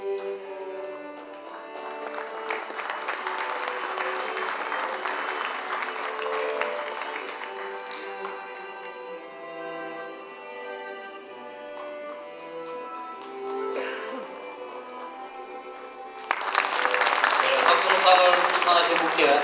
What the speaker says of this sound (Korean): 학술상을 수상하신 분께 다시 한번 축하의 박수를 부탁드립니다.